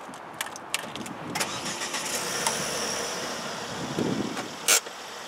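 A 2011 Volvo C30 R-design with a 6-speed manual starts with a few quick clicks and a brief crank, then settles into a steady nearby idle, ending with a sharp click; no one speaks.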